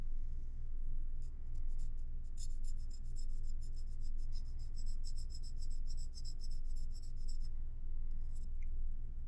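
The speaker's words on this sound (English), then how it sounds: "I'm going to grab the big file" Rasping strokes of a big metal file working along the edge of a cast resin piece, repeated scraping bursts steady and close over a constant low hum, with no talk.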